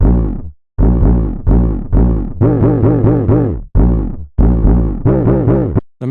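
A deep, distorted vocal pitched down an octave with JS pitch sings or chants in a series of rhythmic syllables, loud and close, with short gaps between phrases.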